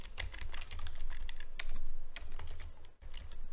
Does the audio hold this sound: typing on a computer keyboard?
yes